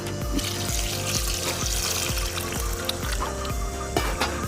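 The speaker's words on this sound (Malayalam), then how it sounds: "ഇനി ഇത് മൂടുന്ന വിധത്തിൽ നമുക്ക് എന്ത് ചെയ്യാം വെള്ളം ഒഴിച്ചു കൊടുക്കണം" Water is poured into a pan in a close, continuous stream with gurgling splashes and a faint rhythmic knocking underneath.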